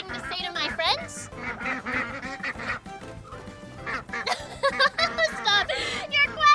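Fuzzy ducklings on a farm quack in quick, repeated bursts mixed with voices, giving a busy, close chorus of calls and chatter.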